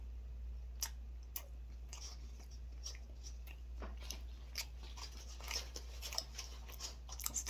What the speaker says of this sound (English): So I can eat an entire clove of garlic with that.